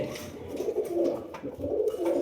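Golla pigeons cooing in a loft, with low throaty coos rolling in repeated phrases, close and fairly loud, and no talk.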